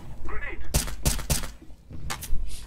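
Several sharp gunshots crack out close and loud in a Valve shooter game, a quick cluster of three followed by two more after a short pause, with a faint voice in the background.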